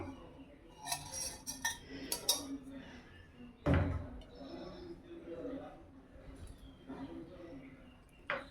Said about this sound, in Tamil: இப்போ கடாய் வச்சுருவோம் எண்ணெய் விட்டுடலாம்